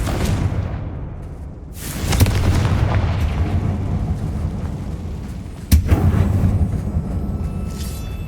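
A Confringo fire-spell explosion in the Hogwarts Legacy video game, a loud booming blast followed by a rumbling roar and a second sharp burst, set against a dense, low ambient rumble.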